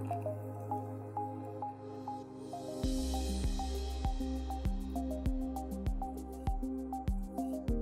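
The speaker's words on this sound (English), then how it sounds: "Grab your kettle and get ready to pour" A steady stream of hot water pouring from a kettle into coffee cups, with repeated drips and small splashes falling at a regular pace, close and fairly quiet.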